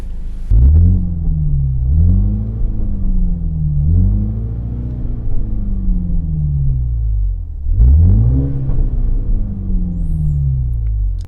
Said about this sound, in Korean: 여기서 도어를 닫고 한 번 더 엑셀을 밟아 보도록 하겠습니다